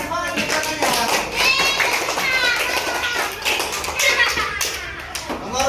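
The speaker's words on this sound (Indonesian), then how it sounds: "tepuk tangan untuk Sika ya." A group of children clap their hands together in a classroom, a dense rapid patter of claps going on for several seconds with children's voices mixed in.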